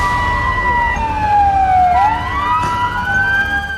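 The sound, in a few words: emergency vehicle sirens wailing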